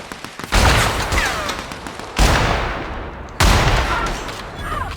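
Gunfire in the video game The Outer Worlds, three loud, close bursts of rapid shots, each with a sharp onset and a decaying roar, spaced about a second or more apart, with no talk.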